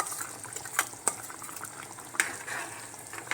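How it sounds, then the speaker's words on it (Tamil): Ground coconut paste goes into a simmering lamb trotter curry, a soft wet bubbling and sloshing in the pot with a few sharp clinks and splats, fairly quiet throughout. "இப்போ நம்ம அரைச்சி வச்ச தேங்காயை ஊற்றிக்கலாம்."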